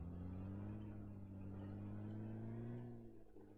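A car engine in PUBG drones steadily with a smooth, sustained hum that dips slightly near the end, sounding synthetic and game-like.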